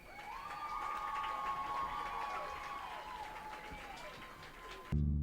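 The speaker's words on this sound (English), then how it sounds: "let's have a round of applause for your 2019 Northwest High School Homecoming Court" A stadium crowd at a 2019 high school football game applauds and cheers for the Northwest High School homecoming court, a steady distant roar with tonal calls above it, cutting off abruptly near the end.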